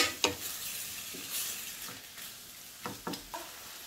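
Ground meat mixture seasoned with oregano cooking in a pan, a soft steady sizzle broken by several sharp stirring scrapes and knocks of a utensil, close and fairly quiet.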